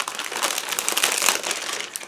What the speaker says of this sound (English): remove them out of the plastic bag